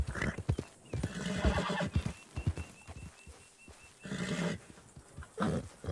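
Whinnying horse and clopping hooves in Red Dead RedM, a roleplay western game; the neigh stretches across the middle while hoofbeats come in bursts before and after, close up, with no voices.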